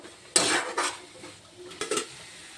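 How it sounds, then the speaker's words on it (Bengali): Fish-head curry with colocasia greens being stirred in a pan, a few close scrapes and clinks of a spoon against metal in short bursts, with quiet gaps between them. "দিয়ে সামান্য নাড়াচাড়া করে নেব।"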